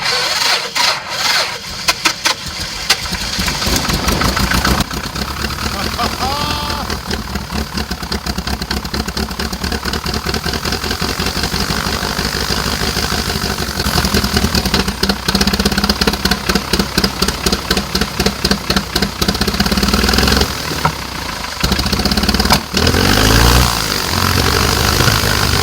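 Mooney light airplane piston engine runs close and loud, sputtering at first, then settling into a steady idle with rhythmic pulsing and occasional rough popping over about twenty-five seconds.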